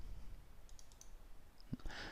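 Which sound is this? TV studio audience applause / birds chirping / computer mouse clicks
computer mouse clicks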